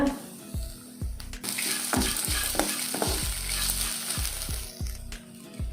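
A cup of grated coconut is sautéed with salt in a hot pan for chutney. It sizzles steadily while a spoon scrapes and stirs in a regular rhythm, about once a second. The sound is close, with no talking.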